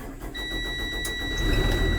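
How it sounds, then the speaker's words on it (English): A school bus engine, in neutral, cranks and fires, a brief starter whir rising into a steady mid-pitched running rumble, heard close with a faint high whine throughout. "Yes, it cranks."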